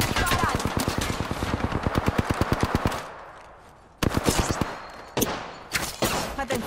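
Rapid bursts of automatic gunfire in a video game shooter, a steady fast volley of shots for about three seconds, a pause, then more short bursts and single loud cracks aimed at the player.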